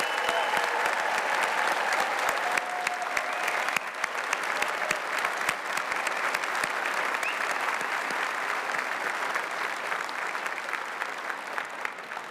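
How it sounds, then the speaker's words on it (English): Sustained, dense applause from a large audience honoring a graduating class at a university graduation ceremony held in a cathedral, steady and loud throughout with sharp individual claps standing out. "let's have another round of applause for our graduating class today"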